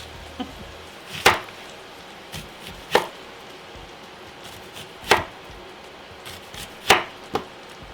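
A knife chops through red onion on a board in about five separate, crisp strokes, each a sharp close thud spaced irregularly with quiet gaps between.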